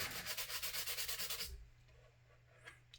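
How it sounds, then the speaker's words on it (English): Putty filler on a 1/535 scale USS Iowa model ship is sanded in quick, even back-and-forth rubbing strokes, close and alone for about a second and a half before stopping, followed by faint light handling. "And I just tried to sand them off."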